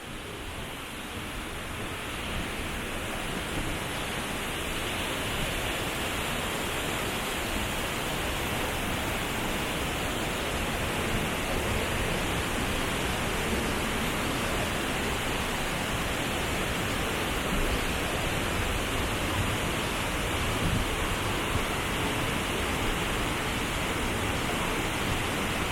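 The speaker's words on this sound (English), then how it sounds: "there's the waterfalls" A waterfall in south Cebu, falling into a small cove, roars as a dense, unbroken rush of water, loud and close, holding steady without pause for the whole stretch.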